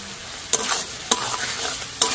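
Chicken fried rice with soy sauce, tomato ketchup, salt and pepper is stirred in a hot pan: three sharp spatula scrapes stand out over a steady, moderate sizzle, with no voices.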